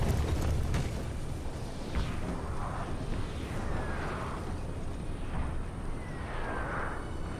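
Cannons fire across a Napoleon: Total War battlefield, a series of dull booms and blasts spaced a second or so apart, some with whistling shots, set against continuous battle ambience at moderate loudness.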